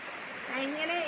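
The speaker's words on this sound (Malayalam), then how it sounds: "കണ്ടാ നല്ല മഴ." Steady rain falls outdoors in Kerala as a soft, even wash of hiss, with a person speaking over it near the end.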